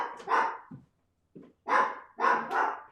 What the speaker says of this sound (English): And hang on 1 second because Diddy is not going to keep barking.